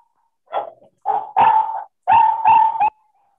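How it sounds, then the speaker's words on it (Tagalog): A hungry dog barks and yips in short bursts, five or six close, fairly loud barks with whiny tails, spaced irregularly with pauses, and no talk over them. "Gutom na yung dog."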